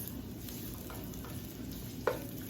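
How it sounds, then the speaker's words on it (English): Half an onion sautés in a pan for Hmong-style fried rice, giving a steady, even sizzle with one brief clatter near the end and no voices. "What we're going to do next is we're going to saute our onions"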